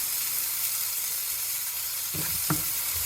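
Onion and garlic for tacos sizzle steadily in a pan, a close, even hiss with a couple of brief clattering stirs near the end and no talking.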